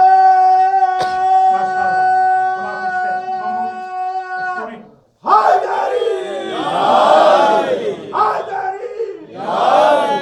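A large crowd at a religious speech gathering bursts into loud chanted slogans after a held tone and a short silence, rising and falling in strong, ragged waves of many voices close by.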